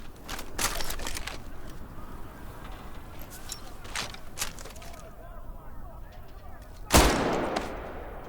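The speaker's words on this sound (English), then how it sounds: "The K98 is a bolt-action rifle, so you reload by pulling and pushing the bolt" A K98 bolt-action rifle fires in the World War II video game Medal of Honor Above and Beyond, with a sharp loud shot early and another loud crack near the end over a constant background of game ambience.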